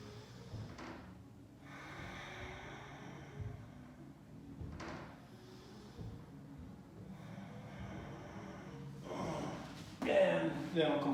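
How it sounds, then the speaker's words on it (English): Slow breaths in and out during a lower-body roll drill for shoulder and hip mobility, soft and close, repeating every few seconds, with some quiet speech. "I'm going to hang out here and breathe a little bit."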